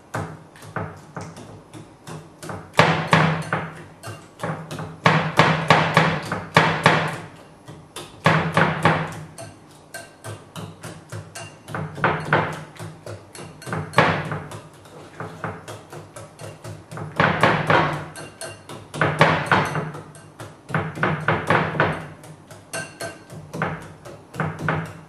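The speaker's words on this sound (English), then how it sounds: "Now I have to just make it as a puree. So what I do is that I use this whisk just to smash it." A whisk smashes cooked okra into a puree in a pot, making repeated bursts of clattering metal knocks against the pan, in uneven groups with short pauses between, close and fairly loud.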